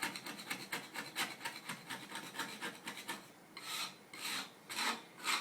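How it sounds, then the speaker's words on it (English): Dry scraper rasping dried carpet backing off a floor during carpet removal, a steady run of short rhythmic scrapes followed by a few louder, slower strokes close by. "patches of this are dried out enough that they just come up with a dry scraper"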